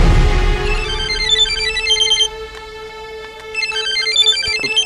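A mobile phone ringtone plays loud and close: a bright, repeating electronic melody over a steady tone that carries on for several seconds with no speech.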